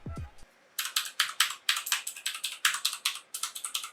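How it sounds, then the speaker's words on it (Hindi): Rapid, loud clicky keystrokes on an ANT Esports gaming keyboard with blue clicky switches, starting after a short pause and running as a steady close-up clatter of sharp individual clicks. "नीचे आपको ऑटोमो ब्लू स्विचेस मिलेंगे विच आर क्लिकी स्विचेस, जो काफ़ी लाउड ऑडियो फीडबैक देते हैं एंड आर सुपर क्लिकी।"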